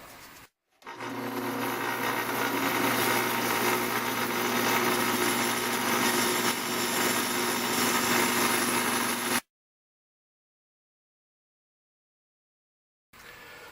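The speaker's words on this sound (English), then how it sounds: "Now over to the bandsaw to cut out the rest of it." Bandsaw cutting out a wooden template in a workshop, a steady loud whine with a low hum running for about eight and a half seconds before cutting off into silence, then starting again briefly at the end.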